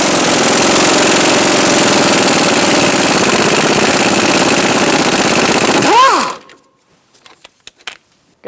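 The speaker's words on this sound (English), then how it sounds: "Using a 15mm socket, we're going to take out this bolt for our strut." A power tool with a 15mm socket rattles loudly and continuously, loosening a strut bolt on a 2012–2018 Ford Focus front steering knuckle. It winds down and stops near the end, leaving a few faint clicks and knocks.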